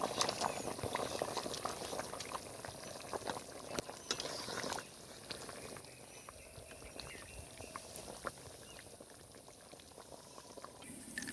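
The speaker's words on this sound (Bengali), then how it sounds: "ঝোল খুব সুন্দর ফুটছে" Katla fish curry with cashew paste boils in a pan, a steady close bubbling and popping that is busier in the first few seconds, then settles to a softer, even simmer.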